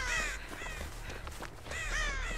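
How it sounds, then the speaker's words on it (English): Crows caw in two harsh bursts of repeated calls, loud and close, at the start and again near the end, with a quieter gap of scattered sounds between. "I gotta disturb crows."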